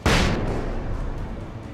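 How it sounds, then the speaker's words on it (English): A flashbang grenade detonates in the video game Alan Wake, a sudden loud bang with a broad burst that rings out and decays slowly over the following second and a half. "Flashbang now."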